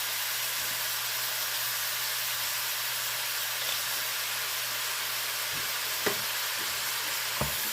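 About three pounds of ground beef browns in a pan for shepherd's pie, giving a steady, loud hissing sizzle with a few sharp pops and scrapes near the end, no talking.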